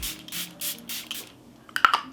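Charlotte Tilbury Airbrush Flawless Setting Spray is misted onto a face in four quick, evenly spaced hissing pumps, heard up close. A few sharp clicks from handling the bottle follow.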